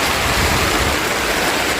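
Heavy rain pouring down in a steady, loud, full-band hiss that fills the short clip without a break.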